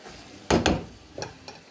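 Minced meat hitting a hot pan with a couple of sharp sizzling bursts, followed by brief stirring scrapes and softer crackles in a quiet kitchen.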